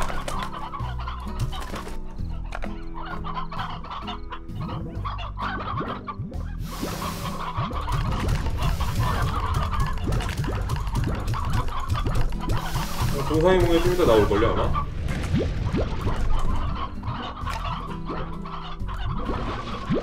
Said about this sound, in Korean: 이 돈 값어치라는 닭이 계속 생겨요